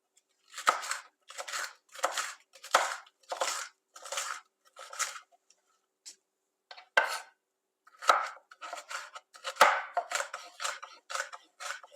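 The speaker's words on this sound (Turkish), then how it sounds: "Kapya biberimizi de küp küp doğrayacağız" A knife dices a red capia pepper into cubes on a cutting board, giving a steady series of crisp chopping knocks in short bursts with brief pauses, close and clear, with no talk.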